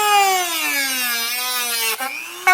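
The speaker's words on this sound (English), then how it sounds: "I got my trusty Dremel, and I'm going to drill all into that." A Dremel rotary tool cuts into the plastic speaker brackets of a 2014 Kia Cadenza, giving a loud continuous high whine that sags gradually in pitch under load, dips sharply near the end, then rises again.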